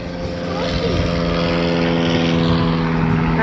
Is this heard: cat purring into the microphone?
no